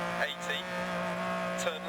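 Ferrari-engined Lancia Stratos in the Dirt Rally video game, its engine revving and droning steadily at moderate volume with pitch shifts as it accelerates, a voice talking over it.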